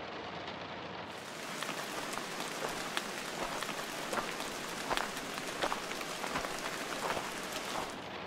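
Steady rain patters on a surface, a dense hiss of drops with occasional louder splashes, close and continuous throughout.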